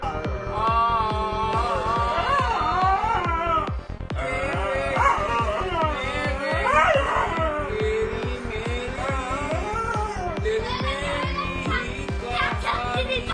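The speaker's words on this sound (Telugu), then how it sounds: "ఈ వీడియోలో ఇతను పాట పాడుతూ ఉంటే ఈ కుక్క అతనికి గొంతు కలుపుతూ ఉంది" A pet dog howls and yips in wavering pitches along with a man's singing, both close and steady throughout.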